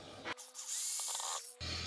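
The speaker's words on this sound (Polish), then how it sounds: "Całe szczęście podłączyłem sobie wcześniej wiertarkę" A power drill runs in a steady, loud whine for just over a second while driving a screw into an uneven wooden beam during construction of a deck on blocks, with short gaps of quiet before and after.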